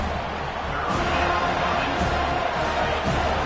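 Home crowd at a football game roaring as the defense tries to get off the field on third down: a dense, continuous wall of cheering and shouting that holds steady and loud throughout.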